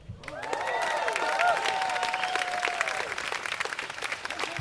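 Audience applause for a banjo player, introduced as a national banjo champion, at a string band show: a steady wash of clapping with cheering voices mixed in, holding for several seconds.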